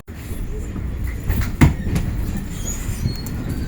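A train pulls out of Tunbridge Wells station past carriages parked alongside, with a steady low rumble of wheels and rail, a louder clunk partway through and faint squealing, heard from inside the carriage with no talk.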